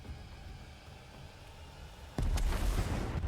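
A grenade going off in the game Horizon Zero Dawn, a single sudden loud blast with a low rumbling boom that stays heavy to the end, after a quiet stretch.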